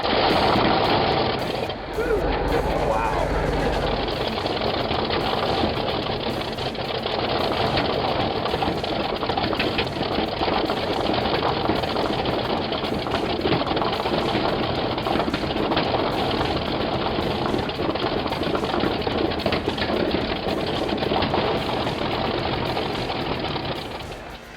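A vintage R4000-360 28-cylinder, four-row radial aircraft piston engine of 4,362 cubic inches runs continuously, a loud, dense, rough clatter with a deep rumble after a sputtering start, steady throughout.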